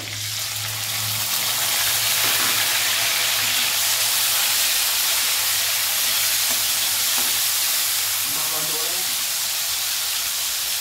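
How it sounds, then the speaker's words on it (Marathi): Chopped tomatoes go into a hot pan with oil and curry leaves for a cauliflower and potato dish, giving a loud steady sizzle and hiss with some stirring scrapes; a voice speaks briefly at the start. "त्यानंतर टाकूया टोमॅटो"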